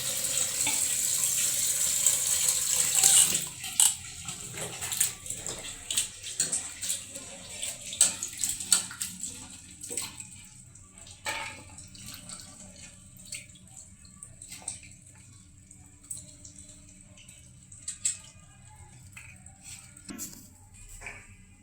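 Water runs from a tap in a home kitchen while something is washed under it, a loud steady stream at first that gives way to splashes, drips and clinks of handling.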